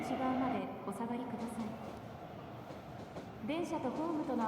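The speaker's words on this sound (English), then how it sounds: "Train will be arriving shortly. Please wait behind the yellow line." A train pulling into a station in the video game Persona 5: The Phantom X, with a steady rumbling approach and faint rail noise under a voiced platform announcement.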